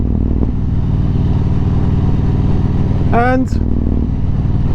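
Motorcycles ride along a country road on the way to Langport, a loud steady engine drone and wind rumble close up, with a voice briefly talking over it.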